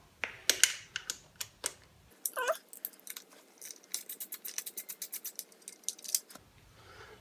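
Hex bolts, 8mm, being loosened and removed one after another from the casing of a Super8 150 scooter, a long run of rapid close ratcheting clicks with a few heavier knocks, no voices.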